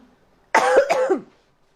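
A single harsh cough at a press briefing, loud and close, a short burst with a quick second push, then silence.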